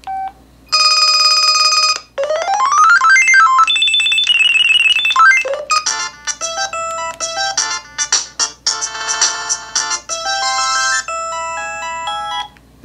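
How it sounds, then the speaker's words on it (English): A string of old LG mobile phone ringtones plays one after another, bright synthetic melodies and chirpy electronic tones, loud and clear with short gaps. "Listen to some old LG ringtones"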